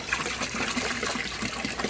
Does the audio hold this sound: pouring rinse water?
yes